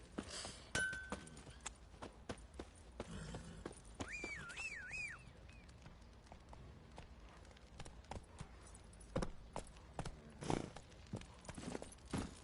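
Horse hooves clip-clopping in a PlayStation video game, soft scattered hoofbeats and thumps at low level, with a brief whistle-like tone in the middle.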